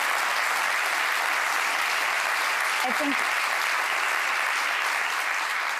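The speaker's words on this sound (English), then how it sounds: "let's give her a round of applause." Sustained, dense round of applause from an audience at a student-athlete of the year award presentation, steady and loud throughout, with a brief spoken phrase just audible in the middle.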